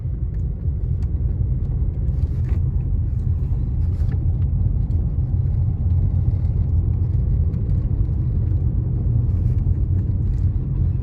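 A Chevy Cruze with a manual clutch is driven and shifted into second gear, heard from inside as a steady low engine and road rumble that holds throughout without talk.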